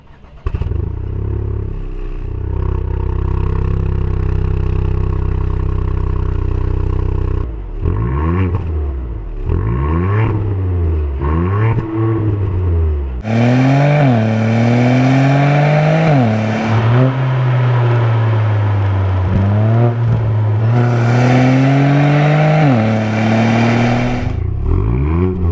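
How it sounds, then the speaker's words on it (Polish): Ford Puma ST three-cylinder engine with an active-flap exhaust, first holding a steady rumbling idle, then revving hard in repeated rising and falling bursts. The engine is loud and close and heard alone. "te samochody, mimo że mają 3-cylindrowy silnik, będą świetnie brzmieć"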